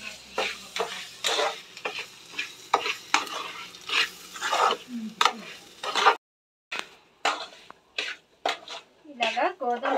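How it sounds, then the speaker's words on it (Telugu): Wheat rava stirred and roasted with vegetables in a pan, giving a steady scrape and sizzle in repeated spoon strokes, close and clear, with a brief pause before the stirring picks up again; a voice talks over it. "ఇలాగా గోధుమ రవ్వ కూడా వేసేసుకొని వీటిని అయితే మంచిగా వేయించుకోవాలి"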